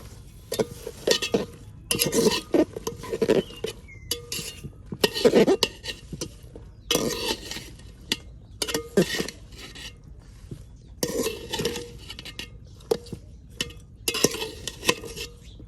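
Vegetables tipped into a pot of spiced Bengali vegetable khichuri and stirred in a rural kitchen, with repeated clinks and scrapes of a utensil against metal coming in short bursts between brief pauses.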